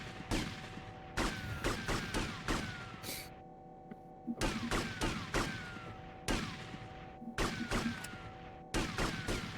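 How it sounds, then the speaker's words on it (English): Gunfire in GTA Vice City target shooting with live ammunition: sharp, loud shots in quick clusters separated by short pauses, repeating in bursts with brief silent gaps between volleys. "But first, we shoot some targets."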